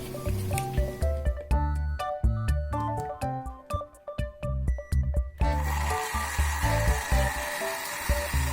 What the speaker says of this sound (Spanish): y un poco de agua para que ayude a moler